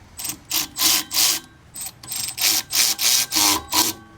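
Caliper bolts being threaded back in on Suzuki Wagon R front brakes with a ratchet, about a dozen quick close clicking bursts in an uneven rhythm, no talk.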